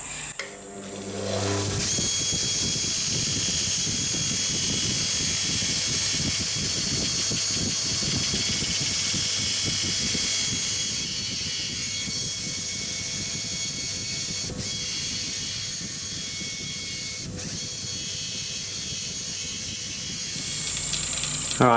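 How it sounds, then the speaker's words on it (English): A metal feed handle for a mini Bridgeport-style mill gets a final satin polish, a steady, whirring rub of abrasive on spinning metal that runs close and continuous, fading slightly toward the end. "let's give it a whirl now and see if we can get a final polish on this"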